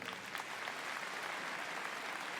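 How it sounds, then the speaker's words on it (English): An audience at a medical detection dogs display claps for a woman who has come up with her dog, a steady, fairly soft wash of applause lasting throughout. "Please give her a big round of applause."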